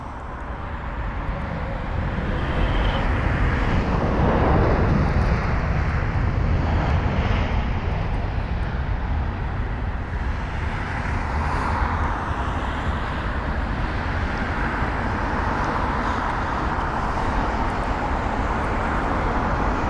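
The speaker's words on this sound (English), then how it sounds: "And that is the pushback of another Lufthansa 320 Neo." Steady, loud jet engine roar from a Lufthansa A320neo at London Heathrow during pushback, a continuous broadband rumble with slight swells and no talk.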